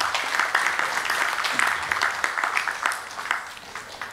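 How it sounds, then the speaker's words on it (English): Audience applause at the Pro Care awards 2018 honouring a gallery, a steady wash of many hands clapping with scattered sharper claps, sustained and fairly close throughout, without speech. "can we give a round of applause for that gallery"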